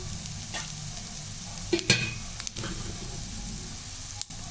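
Ginger and a few coconut pieces being fried in a pan for brinjal podi masala, with a low continuous sizzle and a few sharp spoon scrapes and clinks near the cook.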